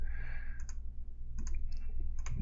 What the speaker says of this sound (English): Just keep clicking.